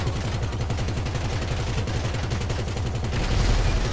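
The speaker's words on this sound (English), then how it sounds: "You can see here now, I've got this minigun." Rapid, sustained minigun fire in GTA Online, a dense continuous roar of shots running the whole stretch at close range and steady loudness, with no talk over it.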